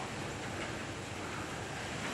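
Strong, continuous wind roars and buffets loudly against the microphone, a dense rushing noise with no pauses.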